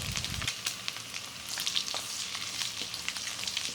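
Garlic and ginger sizzle in hot oil in a pan, a steady crackling fry with scattered sharper pops running the whole time, close and moderately loud with no talking.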